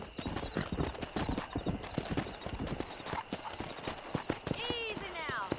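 Horse hooves clip-clop in rapid rhythm as a rider sets off in the Red Dead Redemption western game, with a brief whinny near the end and a faint speaking voice in the background.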